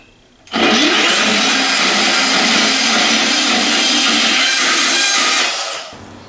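A Milwaukee M18 FUEL 2729-22 deep cut band saw slices through small angle iron in one loud, steady cutting run of about five seconds, starting abruptly and trailing off at the end.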